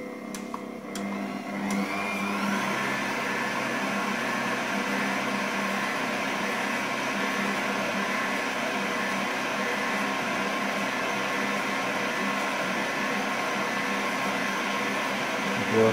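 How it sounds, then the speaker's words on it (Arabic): A dough kneading machine runs with a steady mechanical whir while it mixes burger bun dough, with a few knocks at the start as it is closed and switched on, then hums evenly throughout. "نديرو الماكينة ديالنا، العجينة ديالنا. كنسدو الماكينة ديالنا هكا، كنشعلوها"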